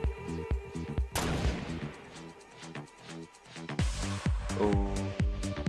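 Rapid bursts of gunfire in a Fortnite squad match, loud repeated shots and explosive cracks from the game, with dense overlapping impacts.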